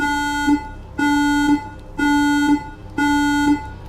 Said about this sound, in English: all of a sudden the sub's warning alarm started going crazy